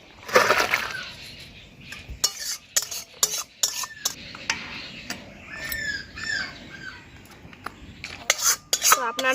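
A cooked prawn curry (golda chingri) being taken off the stove, with sharp metal clatters and scrapes of pan and utensils in irregular bursts, loud and close, and a few bird squawks in the background.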